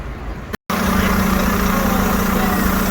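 A diesel bus engine idles steadily in Brighton, a low constant drone with a strong hum, close and continuous, broken by a brief dropout near the start.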